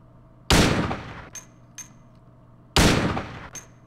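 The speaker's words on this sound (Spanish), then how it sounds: "Probar de sonido con disparo" Two loud, sharp gunshots ring out in Silent Hill 2, each followed by a bright metallic ping and a brief decaying tail, with a couple of short clinks between them.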